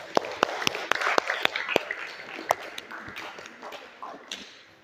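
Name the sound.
audience applause after a presentation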